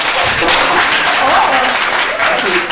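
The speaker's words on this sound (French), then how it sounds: "Ceux qui disent pas, on applaudit." Podcast hosts clap during a live French-language episode, a loud close burst of several people's clapping that continues steadily throughout, with voices mixed in.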